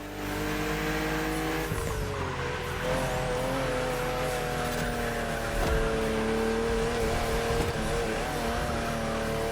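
A BMW CSL racing in The Crew Motorfest, its engine note climbing steadily through the gears with rising whine and brief shifts, plus a few scuffs of tire noise, loud and close with no talking.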